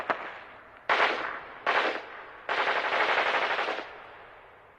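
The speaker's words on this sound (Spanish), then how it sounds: "De repente, una metralleta empezó a disparar." Machine gun fire as a war documentary sound effect, with short bursts of rapid shots followed by a longer sustained burst, loud and close, no speech.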